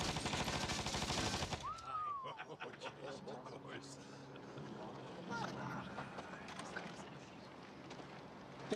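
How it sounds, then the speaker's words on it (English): A Thompson submachine gun fires in a dramatized Prohibition-era scene from the TV series Boardwalk Empire, a loud rapid burst at the start giving way to quieter scattered pops and movement under voices. "Show him the power of the Tommy gun."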